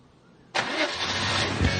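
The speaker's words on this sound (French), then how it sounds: "Le dimanche, Philippe change de volant pour celui de sa 2 chevaux de collection" A collector's vintage Citroën 2CV engine catches abruptly after a quiet moment and settles straight into a steady, close, rattly idle.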